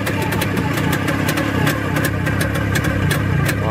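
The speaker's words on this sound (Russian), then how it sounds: "Мотор просто шепчет." A steady VAZ-2107 car engine idles close by, a low even rumble with faint ticking on top and no one talking.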